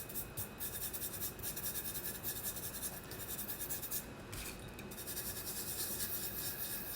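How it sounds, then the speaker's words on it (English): Glitter is rubbed by hand onto double-sided tape wrapped around a tumbler, giving a quiet, continuous scratchy rubbing close by, in short repeated strokes, with no talking. "you're going to take your glitter and you're going to make sure that you rub it in"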